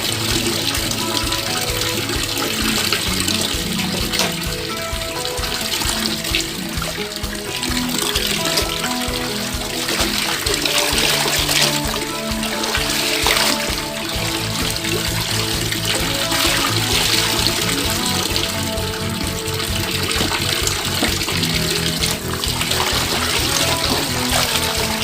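Hand-washed laundry is swished and rinsed in a tub of water, giving continuous close splashing and sloshing with running-water texture, steady and fairly loud throughout.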